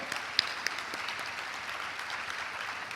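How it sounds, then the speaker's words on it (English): At a conference opening, the audience claps for sponsors and partners in steady, even applause, with a couple of distinct close claps near the start. "Join me in applauding and thanking our partners and sponsors for their support"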